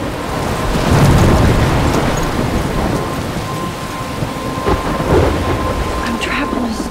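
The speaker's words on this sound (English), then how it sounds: "I'm trapped in a storm?" Loud thunderstorm from the video game Life Is Strange, with steady heavy rain pouring throughout and deep rolling thunder swelling near the start and again later, a continuous dense wash with no talking.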